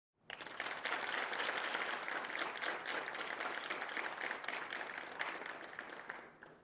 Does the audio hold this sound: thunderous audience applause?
yes